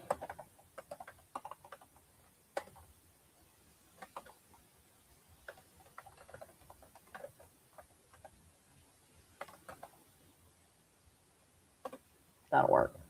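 Team names are typed on a computer keyboard in scattered bursts of light clicks, while a voice talks softly over the keystrokes and a loud thump lands near the end.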